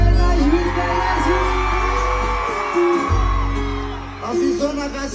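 A concert crowd at a front-row show shouts and whoops loudly and continuously, a dense wash of massed voices with a sudden swell of yelling near the end.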